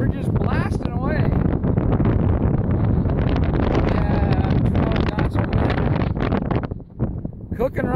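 Strong wind buffets the microphone aboard a sailboat running fast off Monterey, California, a loud continuous roar with water rushing under it, while people talk and shout excitedly over it.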